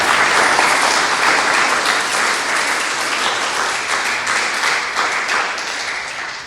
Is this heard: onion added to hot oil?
no